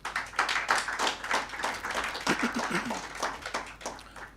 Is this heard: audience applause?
yes